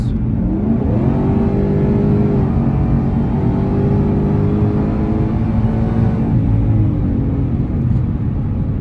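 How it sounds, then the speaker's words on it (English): A 2018 Ford Mustang fitted with a Whipple supercharger pulls hard on a freeway, its engine note rising and holding a loud, steady rev under load, with a brief dip and renewed climb partway through, close and continuous with no talk. "we're going to do a little freeway pull, see what it does"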